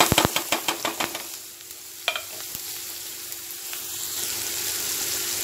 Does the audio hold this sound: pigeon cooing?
no